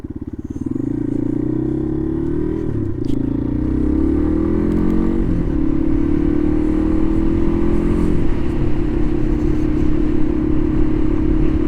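A 2012 Yamaha XT250 dual-sport motorcycle rides along town roads, its single-cylinder engine droning steadily up close and rising in pitch as it accelerates through gears, with brief dips at each shift.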